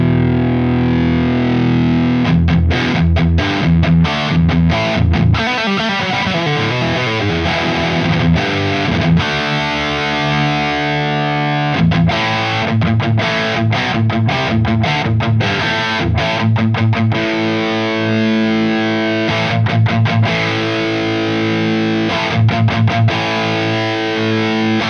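Electric guitar played through a Synergy Plexi amp module with the second gain stage turned up, giving a thick, saturated distorted tone with chugging palm-muted bursts and sustained chords, loud and continuous with no talking.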